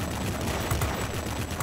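Cannons on an F7U Cutlass fire in World of Warplanes; they are the same cannons as the F2H's, mounted slightly off-center. The result is a loud, unbroken stream of rapid reports that runs the whole moment, with no talking.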